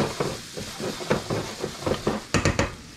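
Bell pepper, shallot, diced tomato and garlic sizzle in a hot pan while a utensil stirs them, giving a steady frying hiss broken by repeated close scraping clacks against the pan that grow sharper near the end.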